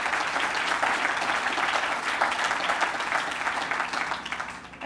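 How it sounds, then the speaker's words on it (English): An audience applauds at a dedication ceremony for a medical professions innovation center, producing a steady dense clapping from many people that holds for several seconds and then begins to fade. "Let's give them a round of applause."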